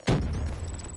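A grenade going off in a video game, a single sudden muffled boom with a low rumbling tail that fades over a second, no voices over it.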